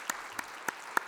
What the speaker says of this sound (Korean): 우리 속회 지도자들 위해서 오늘 박수 한번 쳐줄까요?